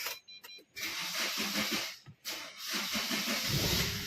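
A car engine cranking and then catching after its flat battery has been charged, a loud close rumble with hissy noise, a brief dip partway through before it settles into steady running, no talk.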